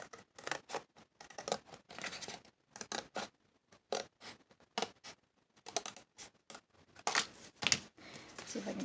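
A pair of scissors snips a small piece off a sheet of paper for a spring junk journal tag, a quick run of close, crisp cuts and rustles in short bursts, ending in a louder tearing swish.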